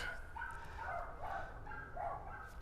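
Dogs bark in the distance in a repeating run of muffled barks over steady background noise.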